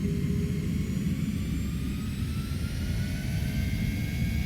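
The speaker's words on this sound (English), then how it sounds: "Listen to those engines." Twin rear-mounted jet engines of an MD-80 airliner in a flight simulator spool up to takeoff thrust, a loud steady roar with rising whine tones filling the whole stretch, no talking over it.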